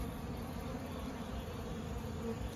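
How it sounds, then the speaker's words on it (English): Honeybees swarm around a tree during a trap-out, a steady, dense buzzing hum from many insects close by, with no talk. "But there's still a lot of bees all around the tree."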